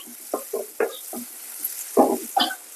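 Onions frying in oil in a pan while being stirred, with a soft sizzle under several distinct scraping stirs spaced irregularly, close up and fairly quiet.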